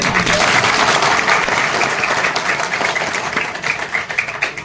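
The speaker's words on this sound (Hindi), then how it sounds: "एक बार जोरदार तालियां।" Steady, loud applause from a crowd fills the whole stretch, a dense wash of clapping that fades slightly toward the end.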